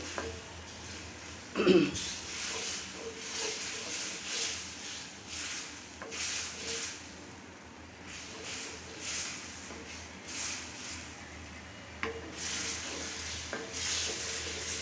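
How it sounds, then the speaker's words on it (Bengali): Rohu fish with turnip, vegetables and spices being sautéed in a pan, giving a steady soft sizzle with scraping stirs and an occasional clink of a utensil against the pan. No one speaks. "মাছ সবজি মশলাটা কষানো হচ্ছে"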